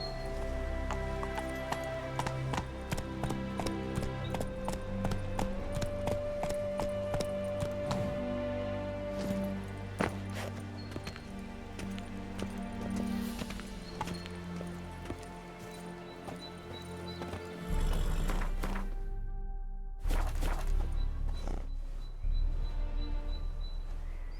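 Hoofbeats of a horse ridden in The Witcher 3, a steady clip-clop running under a dense orchestral music score, with the hooves fairly soft against the music throughout.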